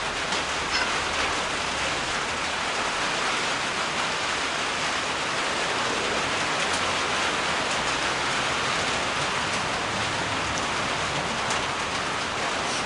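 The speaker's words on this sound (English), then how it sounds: "And of course it's raining again." Steady, heavy rain pouring down in a constant dense hiss, unbroken throughout with no voices.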